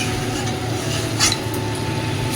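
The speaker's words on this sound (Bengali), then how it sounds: "তো এখানে এখন আমাদের চিকেন কষানো চলছে।" Chicken being stir-fried for kosha in a busy restaurant kitchen gives a steady, dense sizzle with a clatter of utensils and a brief louder scrape partway through.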